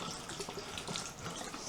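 Water running steadily from a tap onto a potted plant in LECA clay pebbles, a continuous close, even splashing hiss with no talk.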